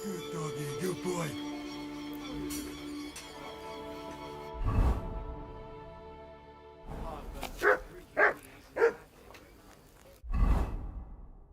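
Dog in Kingdom Come: Deliverance II barking, a few sharp close barks and yips spaced across the stretch amid game music and soft whooshes.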